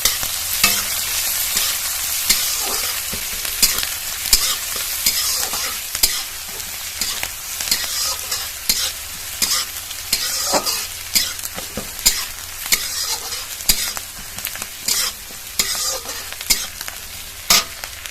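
Chopped onion, chili and garlic fry in hot mustard oil with fennel seeds in the pan, a loud continuous sizzle broken by frequent sharp scraping stirs of a spatula against the pan.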